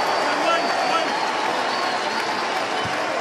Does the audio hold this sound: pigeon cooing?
no